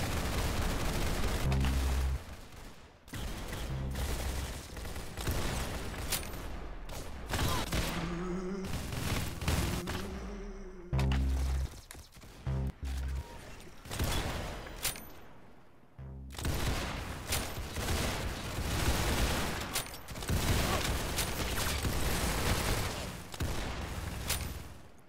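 Dense, continuous gunfire in the Roblox game Arsenal: rapid bursts and shots running almost without pause, loud and busy, with brief gaps between volleys.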